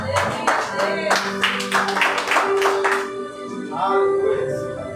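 Church congregation clapping during a worship service before communion, distinct sharp claps in a loose rhythm under sustained tonal music or singing, fading toward the end as a voice carries on.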